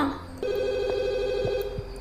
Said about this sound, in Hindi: फोन की घंटी घनघना रही थी।